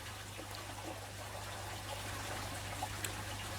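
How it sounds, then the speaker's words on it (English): Freshly warmed rainwater pours and trickles steadily into a fish tank holding breeding diamond tetras, a faint, continuous splashing close by with a low hum underneath. "And we can add some of this water in then."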